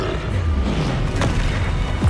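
Bombarda and Confringo spell blasts in Hogwarts Legacy, a continuous dense rumble of low booms and explosive bursts layered with whooshing sweeps, loud and close throughout with no break.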